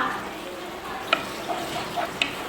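Gobi Manchurian sautés in a pan with chilli sauce, a steady soft sizzle broken by a few sharp spatula taps and scrapes against the pan, close and moderately loud.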